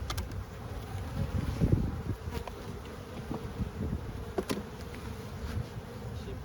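Honey bees buzz densely around an opened hive with stacked supers on a hot day, some bumping against the camera and a beekeeper's veil. The close, steady hum carries occasional sharp taps of bees striking.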